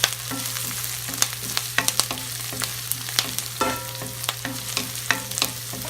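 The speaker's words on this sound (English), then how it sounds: "That's the sole purpose that they use to fry the onion first." Onions fry in a pan on a medium stove, a steady close sizzle under repeated scraping and clicking of a utensil stirring, with an even hum beneath and no voices.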